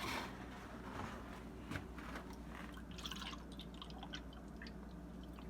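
Liquid is poured while sherbet ingredients are being measured, giving soft trickling and dripping sounds in a quiet kitchen, with a few clinks and no talking.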